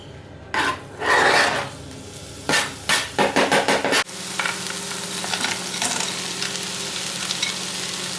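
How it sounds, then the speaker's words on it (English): Chicken and mixed peppers fry in a pan, with a few bursts of stirring and scraping early on before a steady close sizzle settles in, with no talking. "I got some mixed peppers which I just shoved in whilst I cooked the chicken."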